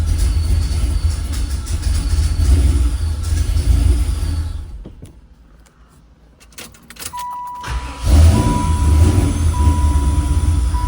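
Car engine idling roughly and nearly stalling, a loud uneven rumble that sags and almost dies midway with scattered metallic clicks, then catches and picks back up.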